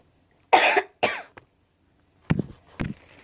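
A young woman coughs in a quiet room: two sharp coughs close together, a tiny catch, then after a pause two lower, throatier coughs, near and moderately loud.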